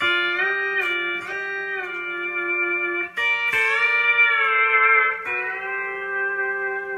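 A pedal steel guitar plays a short lick of sustained, gliding notes with smooth bends between chords, clear and close with no talking.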